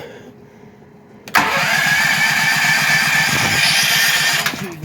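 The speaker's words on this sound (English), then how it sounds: "Let's see if we can get this thing to start up." A Duramax 8500 dual fuel generator engine starts suddenly after a quiet moment, rising into a loud, steady close running drone that holds until a small knock near the end.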